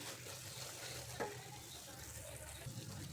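Coconut burfi mixture is stirred in a pan, a faint, steady sizzling hiss with soft scraping running throughout, quiet and continuous with no voices.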